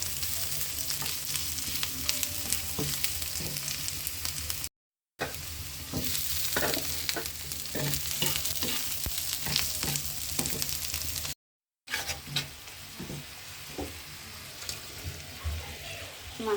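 Fish frying in a pan with lightly fried onion for a Bengali fish bhuna, a loud, dense, continuous sizzle with spatters and stirring clatter, close up, briefly cutting out twice.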